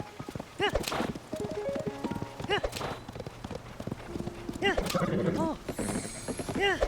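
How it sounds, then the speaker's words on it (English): Galloping horse hooves in Tears of the Kingdom beat in steady, rapid clusters throughout, close and moderately loud, with a brief whinny and faint game mechanism sounds mixed in. "as I'm running with the horse, as Nehru is a wild temperament, it usually it can disobey orders every now and then"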